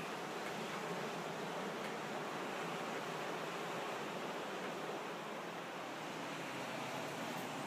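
Ocean surf at a beach in Panama City keeps up a steady, even wash of broadband noise throughout, with no distinct breaking waves or voices.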